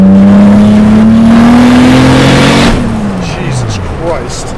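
Turbocharged BMW E30 pulling hard and loud through second and third gear, engine pitch climbing steadily then dropping at a shift, with wind roar and a voice speaking over the engine.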